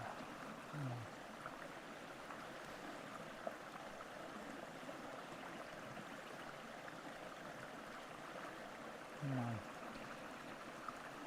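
A stream of running water flows steadily beside a hammock camping spot in the bush, a constant soft rushing wash that stays even throughout, with two brief low bird-like chirps standing out.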